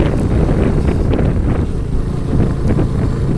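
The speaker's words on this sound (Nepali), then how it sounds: "मन्द गतिमा हावाहुरी चलिरहेको छ" Wind moves through green hill-country trees, pines among them, as a loud, continuous blustery roar with gusts that swell and ease, buffeting close to the microphone.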